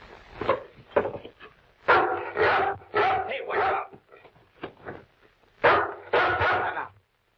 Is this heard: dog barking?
yes